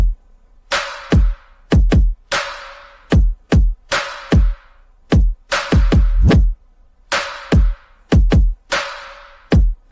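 A future bass drum part built around the Titan snare from Symmetrix, with a wide reverb, punchy kicks and big splashy snare hits in a syncopated loop, loud and alone.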